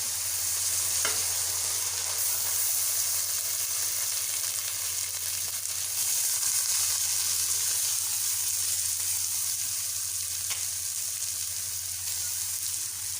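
Rice frying in melted butter in a pan for sweet zarda, giving a constant close hiss and sizzle with faint stirring, unbroken throughout.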